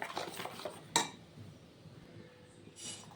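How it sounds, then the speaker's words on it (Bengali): Spices being mixed by hand in a big bowl, with soft scraping and clinks of the bowl, one sharper knock near the middle and a brief rustle toward the end, fairly quiet and close. "মশলাটা খুব ভালো করে আমি মিশিয়ে নিচ্ছি। আমি একটা বড় বাটি নিয়েছি"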